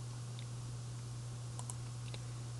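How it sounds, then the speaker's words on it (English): A few sparse keystrokes on a computer keyboard, a number tapped in and then enter pressed, thin clicks set against a strong steady electrical hum. "you can just type in the number 4 and hit enter"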